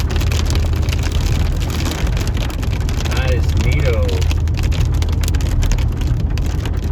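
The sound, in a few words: big raindrops falling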